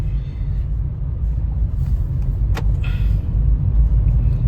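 Car cruising on the Mumbai-Pune Expressway heard from inside, a steady low road and engine rumble with constant wind hiss and no talking.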